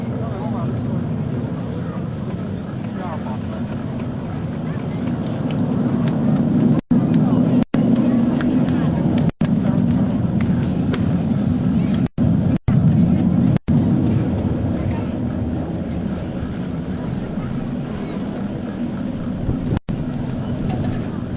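Six US Navy Blue Angels jets in formation at an Air National Guard open house air show in Rhode Island produce a broad, distant roar that swells and holds, while an announcer speaks over a loudspeaker.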